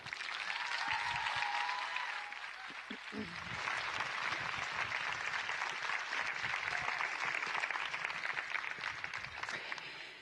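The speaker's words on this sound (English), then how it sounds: "a big applause to Tina Rosenberg" Sustained applause from a large audience at a feminist culture event in Malmö Arena, a dense wash of clapping filling nearly the whole stretch with a brief dip before surging again, steady and loud throughout.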